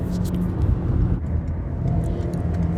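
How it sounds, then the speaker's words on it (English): A 4-cylinder car engine runs in the background as a steady, low rumble with no other sounds over it. "y'all probably hear my car in the background"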